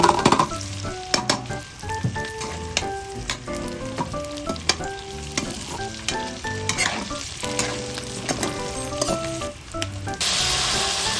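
Pork adobo sizzling and crackling loudly in a kawali, a continuous close frying hiss with frequent metallic scrapes and clanks of stirring, and a brighter hiss surge near the end.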